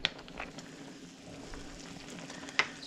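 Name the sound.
pot at a rolling boil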